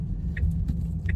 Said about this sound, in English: These lovely cars let me through.